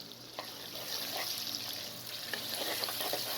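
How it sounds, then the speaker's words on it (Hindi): Aloo gobi with onion is sautéed in a pan, giving a steady soft sizzle with a few light stirring scrapes. The frying is faint but continuous and no one talks. "1 से 2 मिनट के लिए आप इसको भून लें। अब साथ में प्याज को भी शामिल कर लें।"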